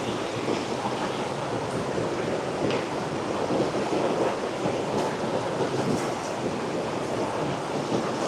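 Small waves lap in a little cove on an Alaskan gold prospecting site, a continuous broadband wash of water mixed with wind buffeting the microphone, with no talking.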